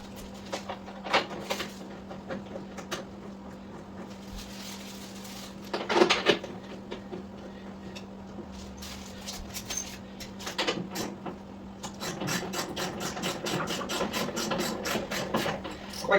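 A ratchet with an extension turns screws on a Kawasaki 1700 Voyager motorcycle during a rear wheel install, giving scattered clicks and then a long run of fast, close, rhythmic ratcheting near the end.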